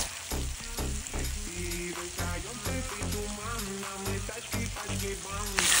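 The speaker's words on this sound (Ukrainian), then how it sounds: "Класно все смажиться," Food frying in a high-quality steel frying pan, a continuous close sizzle with stirring movements running under prominent background music, with no talking.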